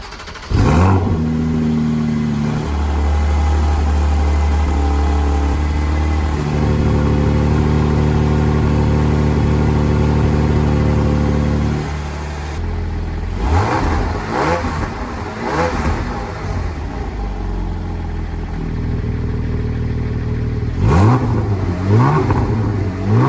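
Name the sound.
Porsche Cayman GTS 4.0 litre engine idling and revving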